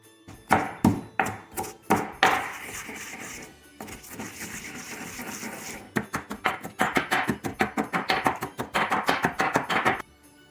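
Poppy seeds ground with coarse sugar for Ukrainian kutia, a wheat porridge served on Christmas Eve, giving rapid rhythmic gritty pounding strokes, loud and close, with a brief steadier rubbing grind in the middle and no talk.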